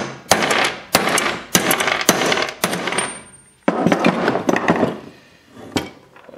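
About nine loud, sharp metallic hammer blows strike through an extension to drive the bearings out of a 2004 Maico 500 motorcycle engine case, spaced irregularly with short pauses and no talk.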